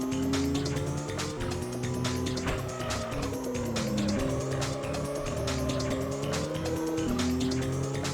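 Car e-brake drift in the racing video game Driftline Peaks: a loud, steady engine drone with sliding pitch shifts and tire squeal runs continuously, close up, with no talking.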